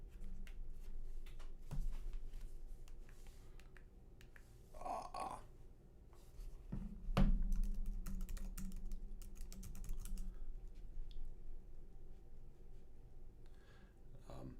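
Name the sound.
typing a credit card number on a computer keyboard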